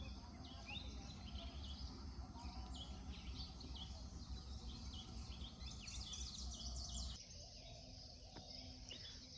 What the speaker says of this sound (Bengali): মানে সকালবেলা পাখি ডাকছে